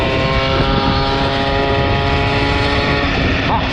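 A tuned MBK 40 moped engine revs hard near full throttle, a loud, steady buzzing drone that climbs through the rev range for several seconds, with no one talking.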